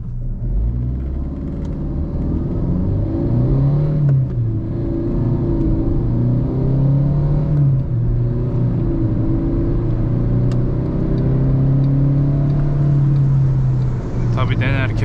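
A Fiat Linea sedan with a 1.3 Multijet 95 hp diesel engine accelerates hard from 0 to 100 km/h, heard from inside the car. The engine gives a loud, steady drone that climbs in pitch through several gear changes.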